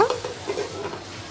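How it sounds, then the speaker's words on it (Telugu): Brinjal and potato pieces frying in oil, with a steady close sizzle and soft stirring scrapes through a short stretch, no voices. "మనకు వంకాయ పొటాటో అనేది మంచి నూనెలో బాగా వేగుతుందండి"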